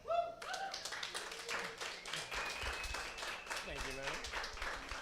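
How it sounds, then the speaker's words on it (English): Comedy club audience applauding a comedian at a weekly comedy festival, dense clapping that carries throughout, mixed with voices and a few tonal sounds. "give a very loud round of applause for Mr. Max Cano"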